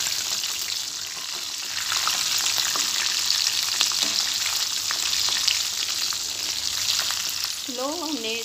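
Restaurant-style fried chicken pieces fry in oil over slow heat with a continuous, close, even sizzle and crackle. A brief tonal squeal or voice-like sound appears near the end.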